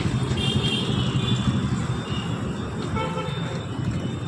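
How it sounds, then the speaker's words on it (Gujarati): Dense city traffic in Jamnagar, India, a steady roar of engines and road noise with car horns tooting now and then in the mix. "જો આવી રીતે કંઈક ટ્રાફિક છે"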